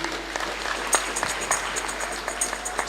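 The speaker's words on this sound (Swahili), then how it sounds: "Tumpigie Bwana makofi." A congregation applauds in church at a Kikuyu baptism Sunday service, steady light clapping with a few sharper individual claps standing out, fairly distant.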